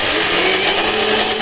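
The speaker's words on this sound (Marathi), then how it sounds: "तर इडलीचा पिझ्झा बॅटर मिक्सरवरती काढत आहे." Kitchen mixer grinder whirring through idli batter, a loud, steady high-pitched motor drone with no break, running alone.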